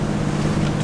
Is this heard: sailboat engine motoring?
yes